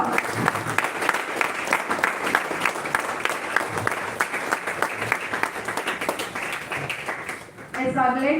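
An audience at a national-level oratory contest inauguration ceremony applauds the chief guest, dense continuous clapping from many hands filling the room, fading near the end as a voice begins over it.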